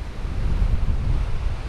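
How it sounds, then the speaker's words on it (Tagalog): Strong wind blowing by the sea on Bermuda Island under an overcast sky, a steady low roar of gusts and surf buffeting the microphone throughout, with no voices. "Lakas ng hangin."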